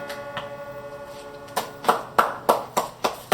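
Faint sparse claps at first, then a run of loud, evenly spaced hand claps at a concert, about one every third of a second, near and crisp.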